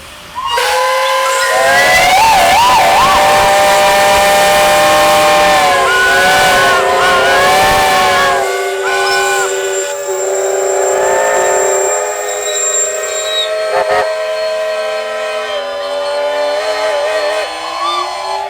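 Many traction engine steam whistles blow together at a steam rally arena in Shrewsbury in a loud, sustained chorus of overlapping shrill tones, some dropping out while others keep sounding.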